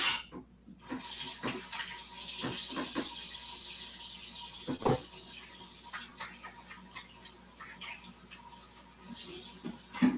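Cut meat is rinsed under a running kitchen tap, with a steady hiss of water lasting about nine seconds, broken by a few faint clatters and splashes.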